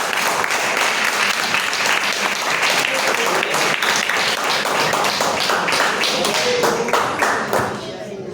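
Congregation clapping in a church service, dense sustained applause with rhythmic taps and thuds, loud and steady for several seconds before easing off at the end, with voices mixed in.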